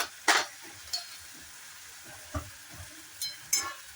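Onion frying in a pan with a little turmeric stirred in, cooked for a quick mutton curry: a faint low sizzle broken by a few sharp spoon-on-pan clinks and scrapes, with no talking.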